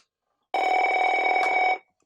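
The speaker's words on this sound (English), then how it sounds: "Both Merlins ring." Two AT&T Merlin office phones ring together in a single electronic burst just over a second long, loud and close, with silence before and after.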